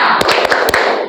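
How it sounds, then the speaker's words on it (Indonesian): A classroom of students claps in a quick rhythmic spirit pattern, several sharp, close hand claps in a fast sequence over a steady background of room noise and voices. "Tepuk semangat!"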